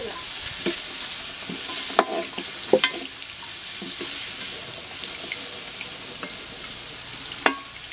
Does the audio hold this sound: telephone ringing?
no